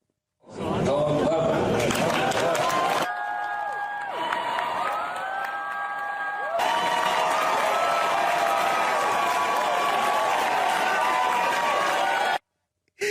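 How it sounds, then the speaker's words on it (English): A large crowd cheering and applauding, a loud sustained roar of clapping and shouts with some whoops that swells, dips briefly, then resumes before cutting off. "Everybody's cheering and applauding me."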